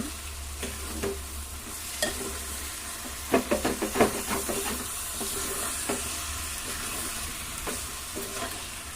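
Drumstick curry sizzling in a pan while a spoon stirs it, steady frying hiss under a run of scraping clinks that bunch together midway, close and fairly loud, no talking.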